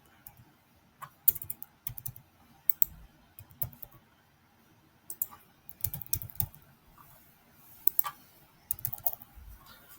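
Card details being entered on a computer keyboard: irregular bursts of close key clicks with short pauses between them, alone in a quiet room.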